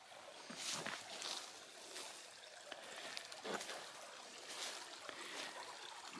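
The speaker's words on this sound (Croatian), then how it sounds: "Voda ima za oprati ruke," A mountain stream runs through forest in the Konjuh mountains, a faint, steady wash of flowing water with a few soft splashing surges.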